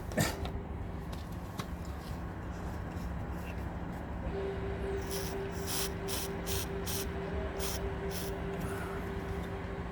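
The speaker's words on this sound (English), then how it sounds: "I'm going to put some silicone spray" Quick bursts of silicone aerosol spray hiss repeatedly in short puffs during Audi A4 B7 air conditioning pressure sensor work, faint against a steady background hum.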